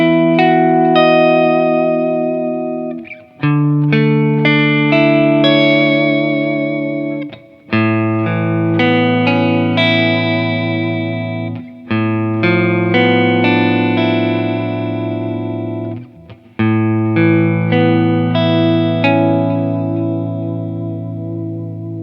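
A Duesenberg electric guitar with humbucker and P90 pickups rings through an amp, loud and close, strummed chords and sustained notes with brief pauses between phrases and a touch of reverb.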